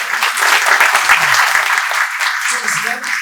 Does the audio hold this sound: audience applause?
yes